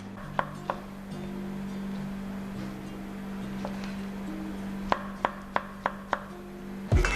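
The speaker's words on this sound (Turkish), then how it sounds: "Diğer malzememiz olan mantarı da doğrayalım." Mushrooms being chopped with a knife on a cutting board in a cooking class: a few scattered taps, then a quick run of five or six sharp, close knocks, over a steady low hum from a nearby burner or fan.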